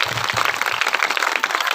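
A crowd at a BJP women's wing political rally bursts into brief, dense applause, a short run of scattered clapping with no voices over it.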